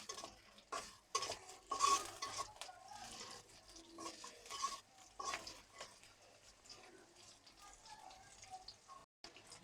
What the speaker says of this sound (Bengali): হালকা করে অল্প একটু ভেজে নেব